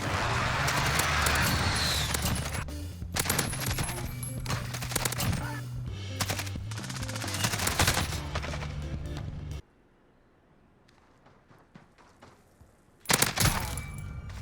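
AK74u gunfire in a first-person shooter, heard as rapid, dense bursts of automatic shots. The firing runs close and loud for about nine seconds, drops to near silence, then a short final burst cuts back in.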